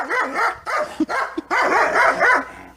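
Several dogs bark and yip in short, loud bursts close by, with brief whimpering notes between the barks.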